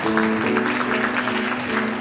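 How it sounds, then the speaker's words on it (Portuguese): Congregation applauding at the close of a church service, a dense continuous patter of many hands over sustained organ-like music tones, fairly loud and even throughout. "Dê um aplauso a Jesus"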